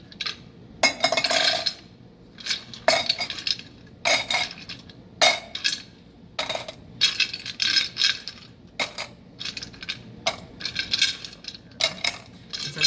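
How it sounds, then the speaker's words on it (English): Ice cubes drop one after another into metal cans, making a string of bright clinks and rattles at an uneven pace, close and fairly loud, with no talk. "So I'm going to add probably about 5 cubes to each of these, get them pretty full."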